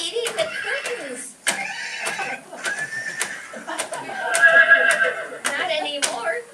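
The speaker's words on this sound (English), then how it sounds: "There's a horse in the kitchen." A horse neighing sound effect in a radio play, with repeated whinnies and snorts mixed under and between people talking, fairly loud and close.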